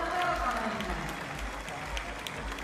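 Steady applause from a home crowd in an athletics stadium for a junior race walker at the European junior championships 10,000 m final, continuous clapping throughout under a commentator's voice.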